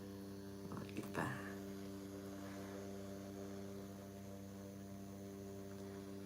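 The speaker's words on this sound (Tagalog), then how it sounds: "Ito ang ating kasama palagi, ang ating portable fan." Portable fan running in a backyard, a steady motor hum with a low tonal drone held evenly from start to finish, faint and continuous, with a brief knock of handling near the start.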